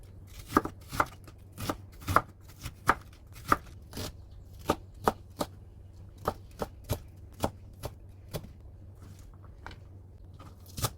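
Vegetables such as water parsley, bell pepper, purple onion and cabbage being chopped with a knife on a board: a steady run of crisp, close knocks at an even, brisk rhythm with no talking.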